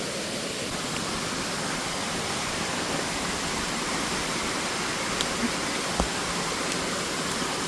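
A waterfall in Pune, Maharashtra: a constant, broadband roar and hiss of rushing water, steady and fairly loud throughout, with a few faint clicks near the end.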